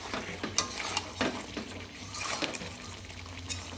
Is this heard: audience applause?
no